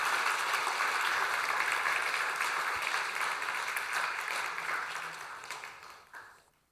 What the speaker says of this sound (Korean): 우리 환영으로 박수로 환영하도록 하겠습니다